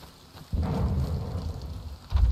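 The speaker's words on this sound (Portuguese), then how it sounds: "Beleza, chovendo agora." Rain in the DayZ survival game, a dull broadband rush that starts suddenly and holds steady, swelling louder near the end, with no speech.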